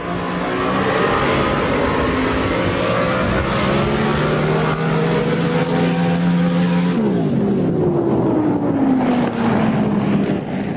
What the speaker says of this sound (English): When you think of drag boat racing, naturally you think of big engines.